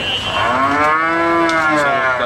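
One long, loud moo from a bull at Ramdas Munshir Hat cattle market in Banshkhali, Chattogram, rises and holds close to the listener, sounding almost alone over faint market noise.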